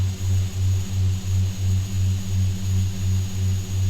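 Beechcraft B200 engines taxiing in X-Plane 10, a steady loud turboprop drone with a rhythmic pulsing beat and a faint high whine running constantly underneath.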